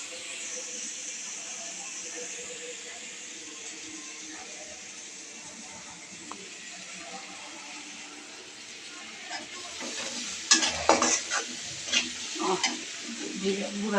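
A spice masala being stir-fried in a pan, a steady soft sizzle with scraping stirs that grow louder and more clattery toward the end.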